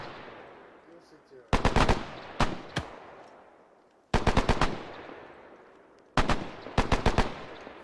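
Automatic gunfire in Arma 3 during a platoon training exercise: three sharp, loud bursts of rapid shots separated by pauses, each trailing off in a fading echo.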